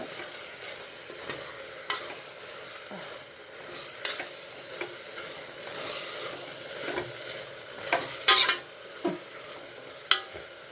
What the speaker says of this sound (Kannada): ಪೌಡ್ರ್ ಚೆನ್ನಾಗಿ ಫ್ರೈ ಮಾಡಲಿ ಸ್ವಲ್ಪ